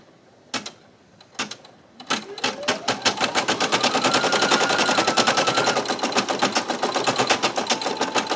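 An embroidery machine stitches a left chest logo. A few separate clacks lead into a fast, even, rattling run of needle strokes that stays loud and close until the end.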